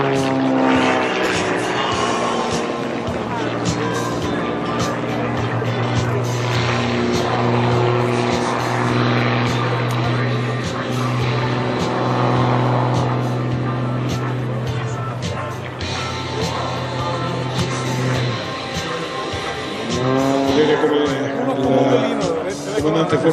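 A 300-horsepower aerobatic propeller plane flown at the Jesolo Air Extreme air show drones steadily overhead, its engine pitch rising and falling as it manoeuvres, with a commentator talking over it throughout.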